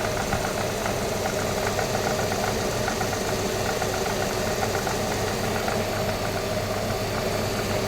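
Electric motor running steadily under full load while driving a Maruti Suzuki XL6 hybrid alternator on a test rig, a loud continuous droning hum with rattling undertones and no pauses or talk.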